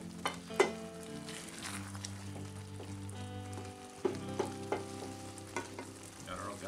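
Green peppers and chili fry in a pan with a quiet, continuous sizzle, broken by a few sharp clicks and scrapes of stirring, close and faint.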